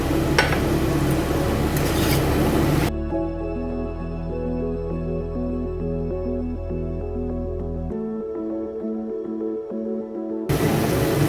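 Potatoes drop into spice paste frying in oil in a pan, giving a loud sizzling, scraping hiss at the start, then steady tonal music in the middle, with the sizzle returning briefly at the end.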